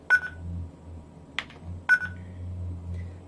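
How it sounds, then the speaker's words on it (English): Private call tone from a Retevis RT73 mini mobile radio: three short, crisp electronic beeps spaced about a second apart, heard close over a faint low hum, with no talking. "Next is a private call tone."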